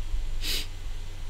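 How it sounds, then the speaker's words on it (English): A single sharp nasal sniff from someone congested by pollen allergy, brief and close, standing out over a steady low background hum. "apologize for sniffling, but today was a rather awful day for pollen, so I am stuffed to the nose."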